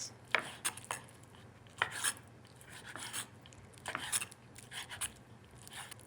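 Knife trimming fat off raw chicken for chicken scarpariello, heard as close, quiet rasping cuts and scrapes on a board in irregular short strokes, with a low hum underneath.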